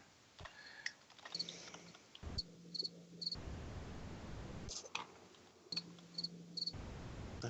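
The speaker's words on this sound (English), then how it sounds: "Some loud crickets." Loud crickets chirp in steady pulsing trills with sharp ticking accents, close and continuous throughout, with a few brief thumps and faint background noise.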